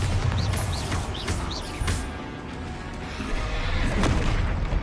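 Bombarda spell explosions in the video game Hogwarts Legacy, loud booming blasts with crashing debris, two stronger bursts standing out over dense battle noise.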